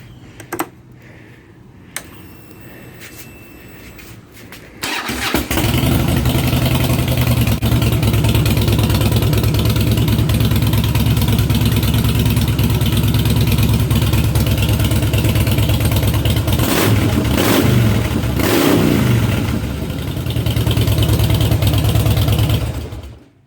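Harley-Davidson Fat Boy fitted with an aftermarket Vance & Hines exhaust, heard starting after a quiet few seconds, then a loud, steady, deep V-twin rumble with blips of revving, close by and alone.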